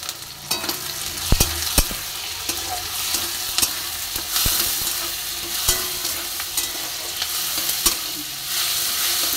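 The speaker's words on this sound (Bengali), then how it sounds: "তো মশলাটা এখানে ভেজে কষিয়ে নেব।" Spice masala of cumin, turmeric and chilli powders frying in a pan, a bright steady sizzle with frequent sharp scrapes and taps of a spoon stirring, close by with no talking.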